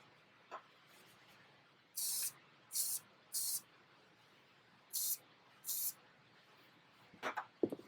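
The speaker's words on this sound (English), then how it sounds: "we're then going to apply aerosol mink oil to the suede parts of the shoe" Aerosol mink oil sprayed in five short hissing bursts onto the suede of Jordan 1 Mocha sneakers, each burst about half a second long, close and clear over quiet room background, with a few small handling noises.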